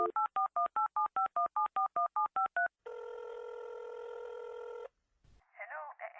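A telephone dials another line: a quick run of about a dozen evenly spaced keypad tones, then a steady ringing tone lasting a couple of seconds, followed by a brief thump and a faint voice.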